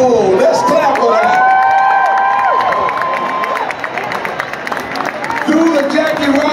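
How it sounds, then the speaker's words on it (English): Stadium crowd at a Brooklyn Dodgers game honoring Jackie Robinson cheering and clapping, a loud sustained roar with whistles and shouts rising over it, swelling again near the end. "Let's clap for that."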